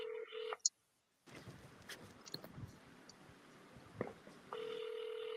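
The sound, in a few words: outgoing telephone call ringing unanswered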